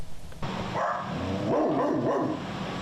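Dogs at an animal shelter bark and yip close by, with several overlapping barks and whimpers following a brief burst of background noise.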